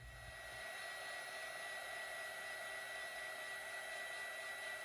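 A heat dryer runs steadily and loudly close by, drying a mixed media tag made from masterboards, its broadband whooshing roar constant from start to end with no talk.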